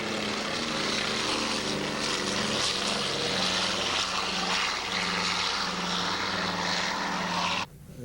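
A PBY Catalina amphibious airplane's propeller engines drone loudly and steadily, a close, throbbing engine roar that holds for several seconds and then cuts away abruptly near the end.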